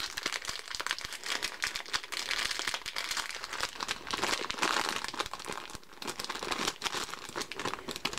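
A parcel from a mailbox is opened up close, with continuous crisp paper crinkling and crackling interspersed with short tearing bursts, fairly loud and busy throughout, with no talking.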